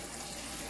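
Warm water running from a kitchen tap while cooking adobo, a steady, quiet, continuous rushing stream with no talk.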